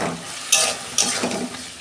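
Taro frying in a small amount of hilsa fish oil in a hot pan, a steady close sizzle with a couple of sharp scraping stirs and no talking.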